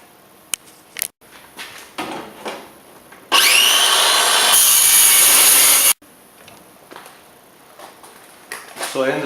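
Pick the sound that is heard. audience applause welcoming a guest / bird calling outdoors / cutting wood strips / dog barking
cutting wood strips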